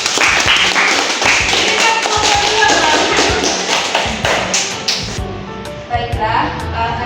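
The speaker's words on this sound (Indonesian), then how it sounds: "kita beri aplaus dulu kepada kelompok 2" Classroom applause for a student discussion group: a loud, dense burst of clapping from many hands with taps and thuds, voices mixed in, tapering off toward the end.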